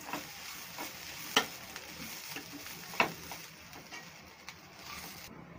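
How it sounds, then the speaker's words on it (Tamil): Curry leaves fry in hot oil for coconut rice, giving a soft, steady sizzle with light stirring and a couple of sharp crackles, fairly quiet and close, with no talking. "கருவேப்பிலை சேர்த்துட்டு ஒரு 5 நிமிஷம் நல்லா ஃப்ரை பண்ணிக்கோங்க"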